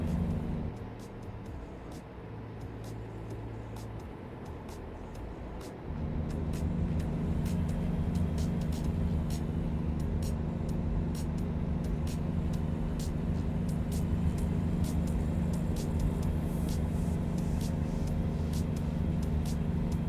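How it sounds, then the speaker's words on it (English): Heavy truck engine in American Truck Simulator pulling away and building speed, a low steady drone that steps up in pitch and loudness around six seconds as it climbs through the gears, with no talk. "I haven't paid close attention to the gear progression of this truck when it accelerates"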